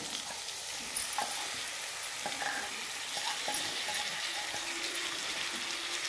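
Poha (flattened rice) tipped into a hot pan and stirred, a steady soft sizzle with faint scraping and clinks of the spoon against the pan, no voices.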